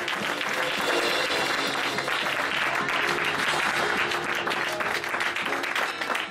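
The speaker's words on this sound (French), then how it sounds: "Une bonne main d'acclamation à Jésus, s'il vous plaît" A church congregation claps loudly in acclamation of Jesus, a sustained, dense roar of hands that holds steady from start to finish.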